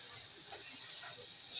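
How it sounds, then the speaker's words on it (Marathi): Onion and tomato frying over low heat in a pan for a prawn masala, giving a soft, steady sizzle and hiss close by, faint and even throughout with no talking. "कांदा आता परतून शिजवून घेऊया"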